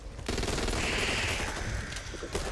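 Dense, sustained gunfire in the zombie shooter Back 4 Blood on Nightmare mode, a loud continuous volley of rapid shots lasting about two seconds with no talking.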